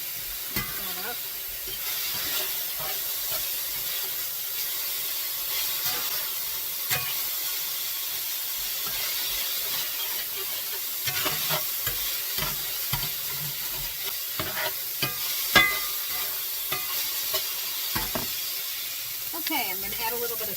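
Moo shu pork seasoned with onion and garlic powder sizzles quietly in a pan while being stirred, a soft continuous hiss broken by occasional scraping and clinks.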